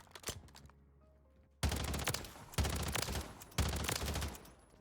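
Rapid automatic gunfire in a Call of Duty firing range, fired through a custom PS5 controller with clicky triggers: a short opening burst, then three sustained loud bursts separated by brief pauses.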